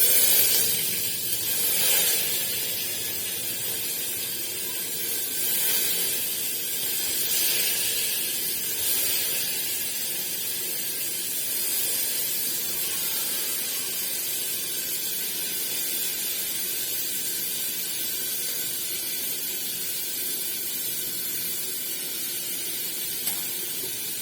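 Tomatoes frying in a pan with a long, even sizzle and hiss, constant throughout and fairly soft, with no talking.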